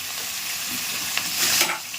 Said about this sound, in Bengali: একটু হবে ততক্ষণ আমরা পেঁয়াজটাকে সুন্দর করে ভেজে ভেজে নিই